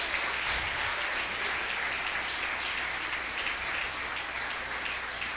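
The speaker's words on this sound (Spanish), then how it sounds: "dale un fuerte aplauso a Cristo" A church congregation applauding during a service, steady massed clapping heard at a moderate distance, fairly quiet and even throughout with no speech over it.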